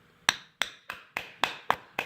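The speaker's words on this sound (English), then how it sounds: "I might have to love tap it in there ever so slightly." Hammer lightly tapping a shifter shaft seal into place on a 2008 Harley-Davidson Road King Classic FLHRC, seven sharp metallic taps at an even rhythm, close and clear.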